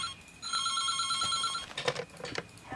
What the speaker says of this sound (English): Before I could dwell on it too much, the phone rang.